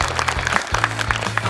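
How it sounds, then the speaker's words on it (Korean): An audience of around 100 citizen panelists claps at a televised education forum marking a provincial education superintendent's first year in office, a steady patter of applause over a low background hum. "본인들 소개에 제일 큰 박수를 보내주시네요."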